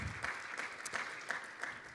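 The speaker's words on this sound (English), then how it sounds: "Let's give him a round of applause." Audience applause at a university final presentation event, a steady wash of many hands clapping with a few louder bursts, moderately distant and fairly soft, with no talking over it.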